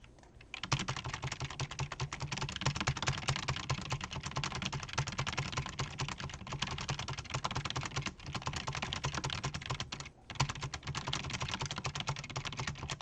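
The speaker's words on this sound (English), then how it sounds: "I'm going to try to see how many numbers I can type without typing an error" Rapid, continuous keystrokes of someone typing numbers on a computer keyboard, a dense fast clatter broken by one brief pause near the end.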